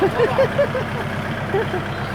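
A farm tractor converted into a mobile sound-system parade vehicle in Uthumphon Phisai, Sisaket, idles with a steady low engine rumble, while faint short pitched sounds ride above it.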